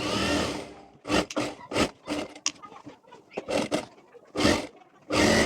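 A sewing machine stitches an Anarkali kurti in short, separate runs of whirring that start and stop repeatedly, with quiet pauses between bursts.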